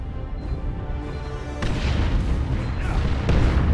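Artillery shells and explosions booming in a Warhammer 40,000: Dawn of War II: Chaos Rising battle, a steady rumble of dense blasts building louder with sharp bursts near the end.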